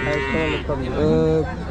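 A cow at a cattle market in Modnimb gives one loud, drawn-out moo right up close, its low voice rising and falling.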